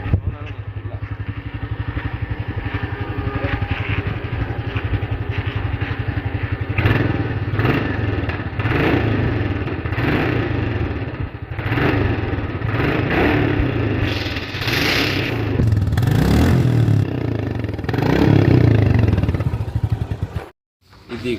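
A 2025 Royal Enfield Classic 350 single-cylinder motorcycle engine runs loud and close with a steady thumping beat, its revs swelling and falling mid-clip before cutting off, with someone talking over it.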